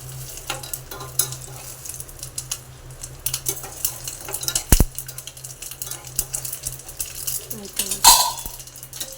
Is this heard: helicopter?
no